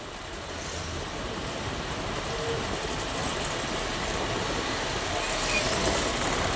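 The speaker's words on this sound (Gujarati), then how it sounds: "ટ્રાફિકે લાંબી નથી ને ટ્રેન હજી આવી જ છે." A train rumbles past at a railway crossing with a steady, broad roar that holds for several seconds and swells slightly toward the end, heard from fairly close with no talk.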